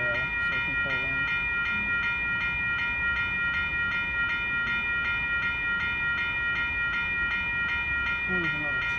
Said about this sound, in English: there's another train moving along that rail